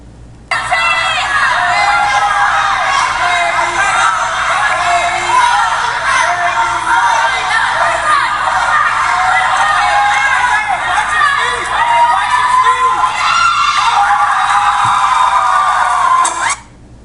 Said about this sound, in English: Crowd's going crazy.